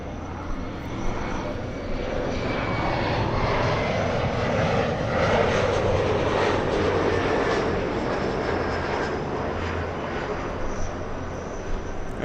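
A United Airlines jet on final approach into LAX roars steadily for the whole stretch, a broad engine rumble and whine that swells slightly toward the middle, heard from the ground at some distance.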